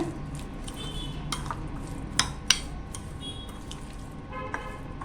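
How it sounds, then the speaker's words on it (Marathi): Cheese butter sweet corn chaat, topped with grated cheese, is stirred in a bowl, giving soft squishy mixing and a couple of sharp spoon clinks against the dish, fairly quiet and close. "आणि व्यवस्थित असं मिक्स करून घेऊया"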